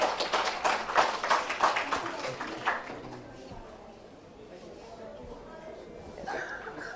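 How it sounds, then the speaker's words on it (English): Conference audience claps in a brief burst of applause that fades out after a few seconds, followed by quieter room noise and faint voices. "So let's have a round of applause for her."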